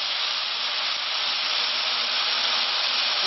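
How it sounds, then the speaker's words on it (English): Beef short ribs marinated and finished with brown sugar sear hard in a hot pan, giving a loud, steady, unbroken sizzle that holds evenly throughout with no talking over it. "I'm gonna sear it."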